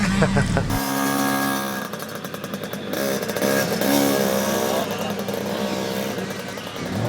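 Motorcycle engines rev and buzz loudly as bikes race down a paddock, a steady high droning with shifting pitch, with a voice speaking over the noise.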